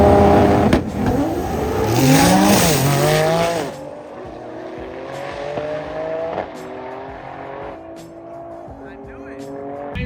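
A 2000+ horsepower Nissan GT-R launches down a drag strip with a loud, rising engine roar and tire squeal, then shifts and fades into the distance as the car pulls away.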